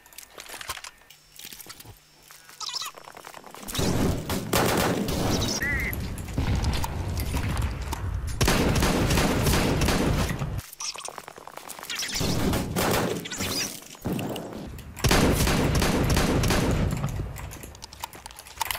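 Pump shotgun fire in CS:GO on Inferno, heard as several heavy, loud blasts in separate bursts over nearly twenty seconds, with someone talking over the game sounds in between.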